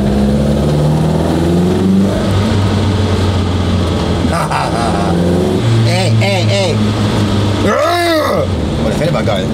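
An Opel Manta pulls away, its engine droning loudly and then climbing in pitch through repeated accelerations, with people talking inside the car over the engine.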